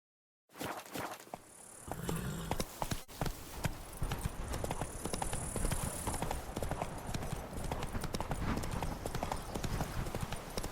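Hooves of Roach, the horse in The Witcher 3: Blood and Wine, clip-clop in a continuous brisk rhythm at close range, starting after a brief silence and carrying on over a low outdoor ambience.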